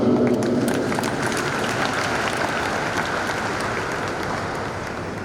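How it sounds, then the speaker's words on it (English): A church congregation at an interdenominational service in Abuja claps for youth and women: a broad, sustained wave of applause from a large crowd, steady and loud, easing slightly toward the end. "We clap for our youth, we thank our youth and our women."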